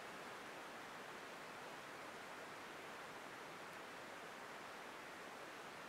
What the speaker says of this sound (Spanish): el rumor del agua es fantástico